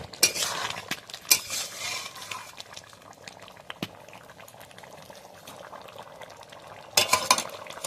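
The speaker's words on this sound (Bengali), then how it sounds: "এবার আমি তরকারিটা ঢেলে নেবো" Mutton-fat ghugni curry bubbling and being stirred in a pot, a steady soft simmer with scattered spoon scrapes and a few louder clanks near the start and end, close and moderately quiet.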